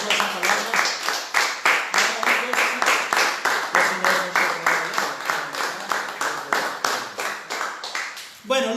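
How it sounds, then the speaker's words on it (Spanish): A church congregation breaks into steady, rhythmic applause, many hands clapping in unison at a brisk even beat, filling the room for several seconds before a voice begins to speak. "a eso le damos al Señor un aplauso a esa palabra"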